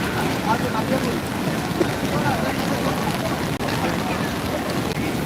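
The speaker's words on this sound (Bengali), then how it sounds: "ওই যে দেখেন সাগর কি পরিমাণ উতাল হয়ে আছে বড় বড় ঢেউ পড়তেছে কিনারে" Big waves crash onto the shore of a sea churned rough by a low-pressure storm, a constant dense wash of surf mixed with wind buffeting the microphone, with faint voices in the background.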